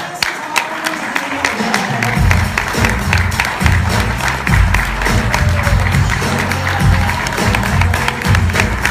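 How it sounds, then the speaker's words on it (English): An audience claps for a speaker at a TED-style talk, fairly loud and sustained, with distinct sharp claps and occasional low thumps running throughout. "let's have a round of applause for Mr. Tom Danko."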